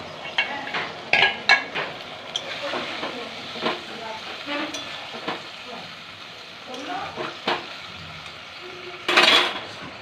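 Pointed gourd (potol) in a pan for vegetarian doi potol, sizzling and spitting after water goes in, a steady crackle broken by sharper bursts and a loud hiss near the end.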